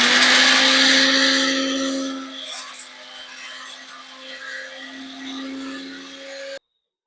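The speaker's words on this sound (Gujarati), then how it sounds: "અને આમ જ અધકચરા પીસી લેશું." An electric mixer grinder coarsely grinds spices with about ten black peppercorns, dry and without water: a loud, close, steady whirring hum that eases to a lower, quieter drone after two seconds, then stops abruptly near the end.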